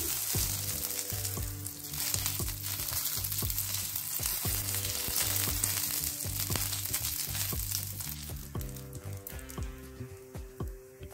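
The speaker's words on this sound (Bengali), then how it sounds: "এবার এটাকে একটু ডালটাকে ভেজে নিচ্ছি" Oil sizzles and crackles steadily as mung dal fries in a pan, with background music playing throughout.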